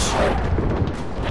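Artillery fire in the Warband mod The Parabellum, a loud, dense wall of booming rumble with overlapping blasts that roll continuously through the clip.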